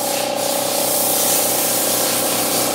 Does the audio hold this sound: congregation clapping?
no